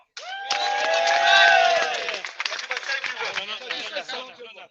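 Crowd applause and cheering for comedian Zakir Khan, loud and dense from a large audience, with whoops rising over steady clapping and then thinning into scattered claps and shouts.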